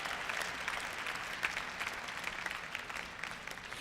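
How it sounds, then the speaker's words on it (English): An audience at an international student cultural night applauds, a continuous wash of many hands clapping at moderate distance with a few sharper claps poking through. "Can we get a round of applause for them"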